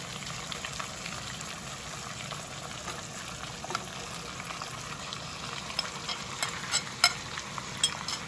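Chicken pieces fry in a pan with ginger garlic paste while being stirred, a quiet steady sizzle broken by scraping and occasional sharper pops toward the end.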